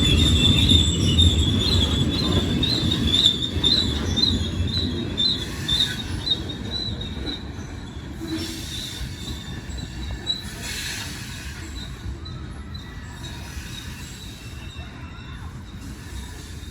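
A freight train crawls up a steep grade on wet rails, its wheels giving off a loud, sustained high squeal that wavers and gradually fades over a steady rolling rumble.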